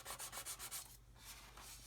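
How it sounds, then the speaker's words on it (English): Sandpaper rubs back and forth on a plastic model kit part in quick regular strokes, close and faint, then a smoother, lighter scrubbing with no talk. "pick your model up and sand it"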